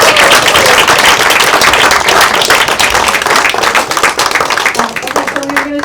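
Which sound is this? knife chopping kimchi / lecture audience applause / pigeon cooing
lecture audience applause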